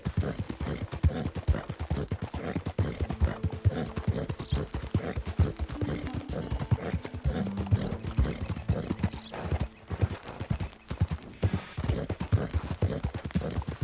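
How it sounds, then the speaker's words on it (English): Horse hooves clip-clop in a fast, steady rhythm in the video game Red Dead Redemption 2, close and continuous, with a brief whinny in the middle. "that's a nice-looking horse you have there"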